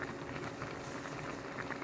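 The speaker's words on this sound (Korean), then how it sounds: "고차가 끓어오르고 있습니다" Pear, jujube and dried persimmon tea, seeds removed, boiling hard in a pot, giving a steady, dense bubbling roil that runs unbroken throughout at close range.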